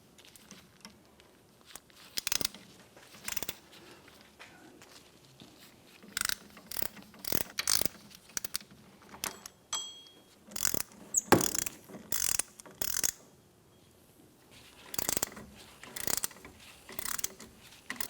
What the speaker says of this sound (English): With a 12 millimeter socket and an extension, you can go right through the hub.